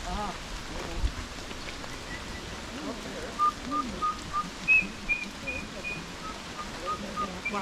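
A person whistles short, clear bird-call phrases on a forest hike in Rincón de la Vieja National Park, Costa Rica, imitating a bird. The whistles come in a repeated series in the second half over soft outdoor ambience.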